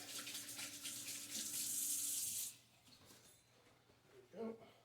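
Hands washed under a running kitchen tap, a steady close rush of water for about two and a half seconds, then quieter splashing with a brief voice near the end.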